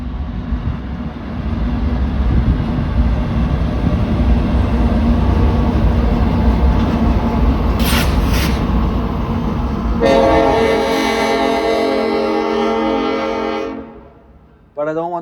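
A CPKC light engine move of three GE Evolution locomotives in KCS Southern Belle paint rumbles past at night near a bridge, loud and steady. A long, blaring horn sounds over the engines near the end before the noise cuts off.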